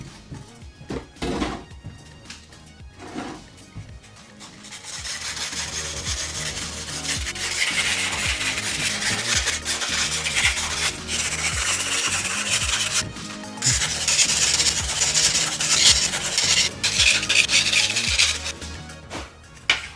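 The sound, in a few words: sanding the ear of a Stormtrooper helmet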